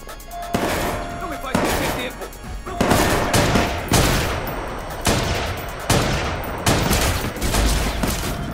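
Gunfire in the video game Watch Dogs 2: a series of loud, sharp bursts of shots repeating about every second, each with a ringing tail, close and dominant over the game's background.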